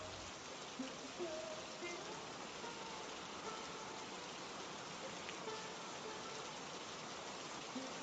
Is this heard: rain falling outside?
yes